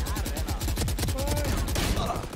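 Rapid automatic gunfire from the video game Valorant rattles continuously in loud, dense bursts, with a brief voice underneath.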